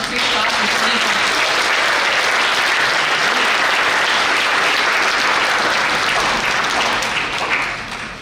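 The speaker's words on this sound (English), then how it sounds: "Please join us as we applaud and welcome to the Student Leadership Johns Creek class of 2020" Steady, dense applause from a graduation ceremony audience welcoming the Student Leadership Johns Creek class, loud and continuous throughout with a faint murmur of crowd underneath.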